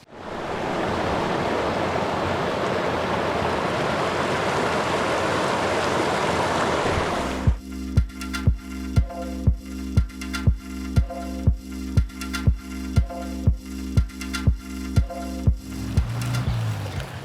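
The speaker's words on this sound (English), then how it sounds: "This is the West Dean stream" A flowing stream rushes steadily and loudly for several seconds, then gives way to an even, rhythmic series of mechanical-sounding pulses until the end.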